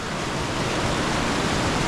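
The Miljacka river flows through a natural rock arch carved between Pale and Sarajevo, giving a steady, dense broadband rush of water that holds constant and fairly loud throughout, with no voices.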